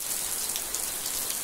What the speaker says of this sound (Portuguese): tava chovendo muito, a chuva tava forte